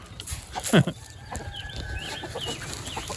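Hens cluck nearby in a garden yard, with a short loud burst early and softer chicken calls scattered across a quiet background.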